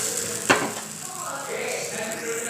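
A ragi adai sizzles on a hot pan, a steady close frying hiss broken by one sharp utensil clack early on.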